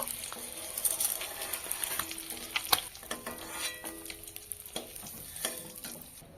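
Eggs fry lightly in oil, a quiet, crackling sizzle with irregular spatters and faint utensil taps scattered throughout, no speech.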